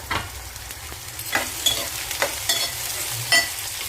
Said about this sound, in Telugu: ఉల్లిపాయ అయితే వేగుతుంది కదా, ఇప్పుడైతే వంకాయ ముక్కలు వేసుకోవాలి.